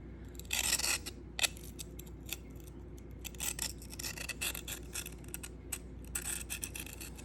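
An S110V steel knife blade stroked across a Sharpal field sharpener, a series of close, gritty rasping scrapes in uneven bursts over a steady low background hum.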